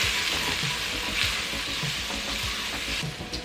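Spices with red pepper flakes sizzle in a hot pan as they are stirred, a continuous crackling hiss with soft periodic scrapes of the spoon, close up and without talking.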